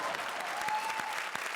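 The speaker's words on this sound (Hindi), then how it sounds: "जोरदार तालियां।" A studio audience at a comedy show applauds, a short burst of continuous, fairly faint clapping with no talk over it.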